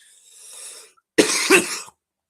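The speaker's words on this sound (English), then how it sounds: "See, this is the cough." A single harsh cough bursting out in two quick pulses, close and loud, after a stretch of faint hiss.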